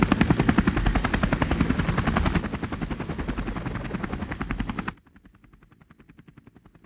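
Helicopter effect soloed for an RC action chase scene, a loud rapid rotor chop with heavy low thump that drops in level partway through, then cuts to a faint thinner pulsing remainder.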